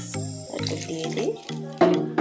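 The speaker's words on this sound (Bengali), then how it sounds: "তো এখন আমি জলটা দিয়ে দিচ্ছি।" Water pours into a cooking pot in a short run of splashing gurgles with rising, bubbling tones, close and moderately loud, broken by brief pauses.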